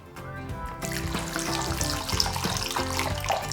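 Liquid poured onto a keto custard mixture in a pan, a close trickling pour that starts quietly and becomes a steady stream, with soft background music.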